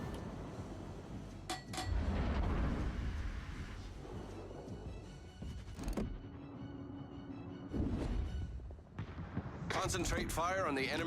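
Warship naval guns in World of Warships fire as a few separate heavy booms spread across the stretch, fairly low in level and partly under steady talking.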